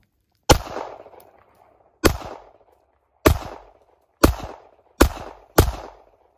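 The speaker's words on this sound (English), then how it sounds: "Ooh, I'm gonna shoot it." Six sharp gunshots ring out one at a time at irregular intervals of roughly a second, each a loud, close crack followed by a short decaying echo, with no talking between them.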